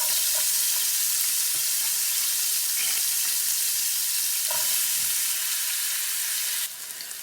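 Vegetables fry in about three tablespoons of lard in a skillet, giving a steady, dense sizzle that holds nearly constant throughout, with a few faint stirring scrapes and a brief drop in level near the end.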